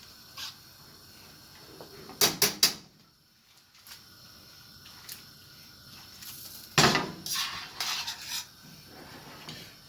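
Beef ragu and pappardelle noodles mixed in a pan, with a few sharp clinks and scrapes of utensil on metal in two bursts and quieter handling sounds in between.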